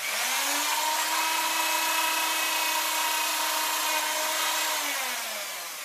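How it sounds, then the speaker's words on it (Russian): An electric drill boring into a coconut whines steadily at a high, even pitch for several seconds, then winds down as the motor slows near the end. "И можно просверлить еще одно отверстие, чтобы ровнее выливалось."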